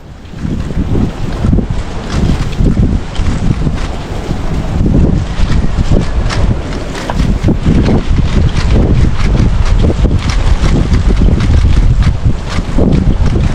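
Strong wind roars and buffets the microphone continuously at a seaside resort, with rushing water and sea noise underneath, loud and close.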